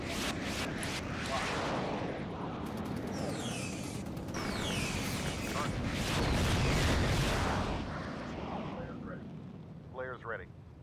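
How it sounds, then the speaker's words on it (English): In the flight combat game Sky Gamblers Afterburner, missile launches and explosions roar and boom continuously, with jet whooshes and heavy rumbling. Someone talks over the noise. "I'm just launching missiles like nothing,"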